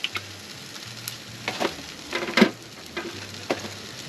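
Bacon frying in a pan at a beachfront campsite: a steady close sizzle with scattered sharp crackles and pops, and a low hum underneath, with no talking.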